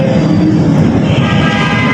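Lahore Orange Line metro train heard at a station: a loud, steady rumbling roar of the rail vehicle fills the scene continuously, with no voices.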